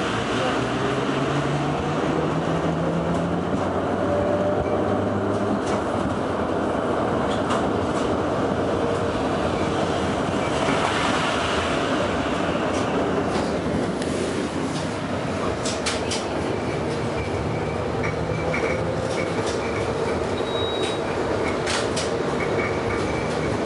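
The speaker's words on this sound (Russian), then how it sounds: "Вагон идет по 38-му до конечной станции проспект Мечникова." An LVS-86K tram runs along route 38 in Saint Petersburg, giving a steady loud rumble of wheels and motor throughout, with rail clicks and squeals joining the ride partway through.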